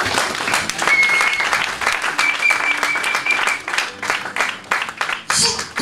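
A congregation applauding during a church sermon, a dense, sustained wash of clapping that swells and fades over several seconds, with a voice briefly audible over it.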